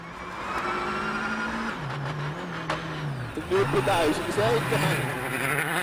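Mikko Hirvonen's Citroen rally car on gravel stage roads in Mexico, its engine tone rising and falling as it nears, with gravel spray and a commentator talking over it.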